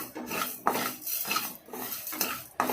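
Coriander seeds being dry-roasted in a pan for a tamarind-stew masala powder, with repeated scraping and rattling of a spatula against the metal at a steady rhythm, close and moderately loud, no voices.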